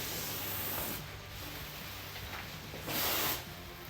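Water spraying from a garden hose fitted with a fan tip onto a popcorn ceiling, soft hissing in a few separate bursts, quiet and close with pauses between passes.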